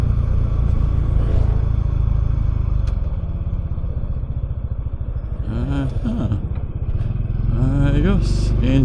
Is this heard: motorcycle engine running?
yes